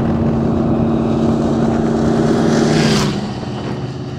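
A 1927 Ford hot rod, a twin-engine Double Trouble Speedmaster, runs loud and close with a steady rumbling idle that swells into a rising rev near the end before easing off.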